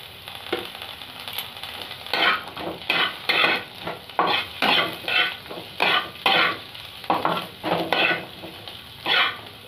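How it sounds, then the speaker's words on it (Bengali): Capsicum and beans fry in hot oil for a noodle dinner, with a steady sizzle broken by about a dozen rhythmic scraping stirs from a spatula in the pan. The sound is close and fairly loud, with no talking. "এটাকেও আমি ভালো করে ফ্রাই করব।"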